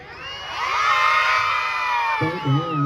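A large crowd at an event for North Karnataka folk art and comedy shouts and cheers loudly, a sustained roar of many voices that swells and then carries on with scattered whoops near the end.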